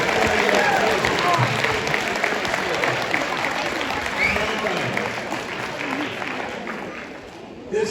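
An audience at a school welcome rally night for incoming sixth graders breaks into steady, dense applause that carries on for several seconds and gradually tapers off near the end.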